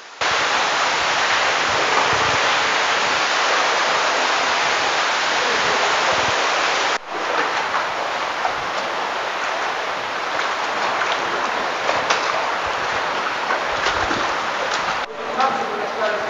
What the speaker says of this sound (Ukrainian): та звук води дуже гучний